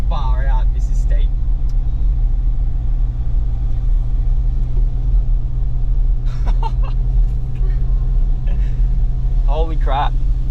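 A 4x4 engine in low range labours up a steep off-road section of the Bloomfield Track in tropical North Queensland, a steady loud low rumble running throughout, with voices talking over it.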